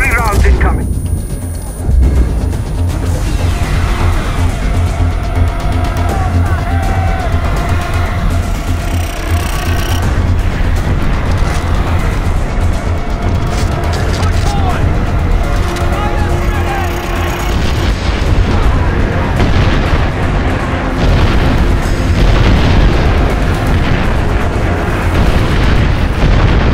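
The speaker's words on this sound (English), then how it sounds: "You have artillery rounds incoming." Artillery shells pound down in the video game Far Cry 4, a long, loud and dense barrage of booming explosions and crackling blasts rolling on without pause, with a voice speaking now and then beneath the noise.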